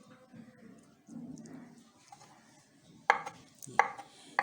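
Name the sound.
chopping mushrooms with a knife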